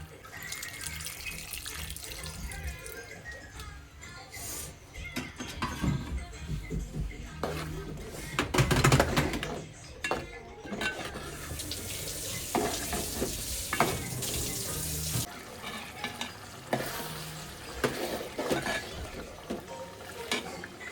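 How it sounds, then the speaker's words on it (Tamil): Tamarind water poured into a garlic curry sizzling in a pan, a continuous splashing hiss and frying crackle with stirring scrapes, fairly close and steady throughout. "புளி தண்ணியை வந்து ஊற்றிக்கலாம்."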